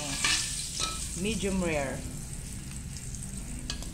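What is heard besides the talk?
butter heating and sizzling in a pan before cooking ribeye steak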